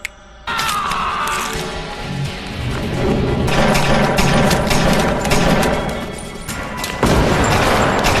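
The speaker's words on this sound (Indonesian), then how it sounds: "Walaupun harus melakukan baku tembak" Shootout in a film about a woman killing a Spanish mafia boss, with loud bursts of gunfire and crashing impacts rolling through the scene, dense and continuous over several seconds with sharp new volleys.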